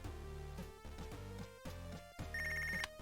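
Telephone ringing in the boxing-management game Punch Club, a synthetic electronic ring tone repeating over the game's background music and filling the whole short stretch.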